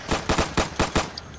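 Rapid gunfire in the video game Insurgency: five loud, close shots in a quick, fairly even burst, each with a short echoing tail, heard alone with no voices.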